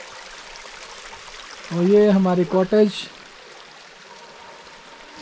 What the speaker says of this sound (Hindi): पानी की आवाज़ आपको सुनाई दे रही होगी